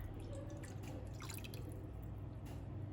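White fingerroot (krachai) juice is poured into a container, a faint close trickle and dripping of liquid against a low background hum.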